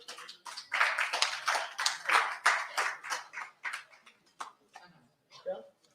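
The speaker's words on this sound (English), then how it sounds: "Round of applause for Mr. Jahate." At a national journalism awards ceremony, a small group claps in a fairly even rhythm that thins out and fades after a few seconds. Some voices can be heard near the end.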